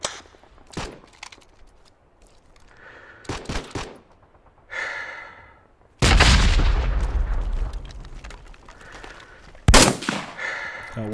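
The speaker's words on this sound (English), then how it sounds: "Okay, grenade out." A grenade bursts in the World War II shooter Hell Let Loose, with a heavy close explosion amid repeated rifle and gunfire cracks and bursts echoing across the battlefield.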